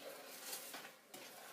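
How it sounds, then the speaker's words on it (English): Melted butter mixture in a pot for no-bake cookies is stirred, a steady close scraping and swishing over a soft sizzle with a couple of brighter clinks of spoon against metal. "Stir this, make sure all the butter gets melted."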